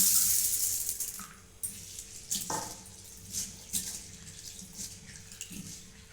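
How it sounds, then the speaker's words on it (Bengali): Soft running water from a tap as chana dal (split chickpeas) is rinsed in a kitchen, with faint splashes and sloshing of the lentils in a bowl, fairly quiet and without talking. "এই ছোলার ডালটাকে এখন আমি ভালো করে ধুয়ে নেব"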